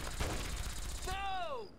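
Rapid video-game gunfire rattles in a dense, continuous burst for about a second, then gives way to a falling, whining tone that fades out.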